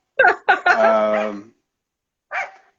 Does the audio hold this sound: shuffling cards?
no